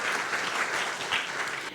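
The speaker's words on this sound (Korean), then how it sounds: "유태현 교수님께 다시 한번 큰 박수 부탁드리도록 하겠습니다" Audience applause for a presenter at the close of a Korean cinema forum session, a dense steady wash of clapping from a room of people, fairly soft and continuous throughout.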